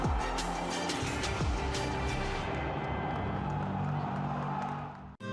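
A dense, steady roar from a soccer stadium crowd at a Texoma FC vs Charlotte Independence match swells loudly and evenly throughout, cutting off sharply near the end.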